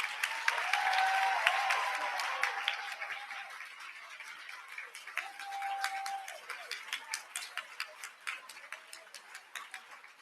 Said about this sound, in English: Another round of applause for our dynamic group of speakers, everybody.